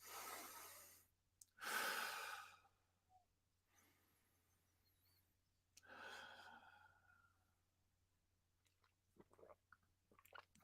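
Deep breaths are taken close to the microphone, with a long inhale and exhale repeated twice and soft sipping and mouth sounds between them, faint over a low steady hum.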